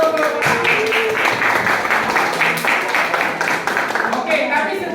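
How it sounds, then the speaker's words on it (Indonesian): A class of university students applauds a winning group during a physics lesson on Ohm's law, steady close clapping from many hands lasting throughout. "tepuk tangan dulu kelompok 6"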